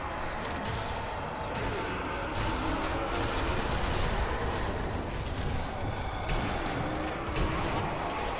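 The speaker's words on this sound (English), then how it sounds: "he's shooting at me" Continuous dense rumble of gunfire and explosions in a war-themed zombie shooter game, a constant loud wash of shots with no clear pauses.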